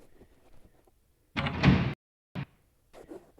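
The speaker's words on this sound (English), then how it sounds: "the heavy thud the door makes" A heavy door swings shut with a single solid, resonant thud, fairly close, followed by a short knock and faint background movement.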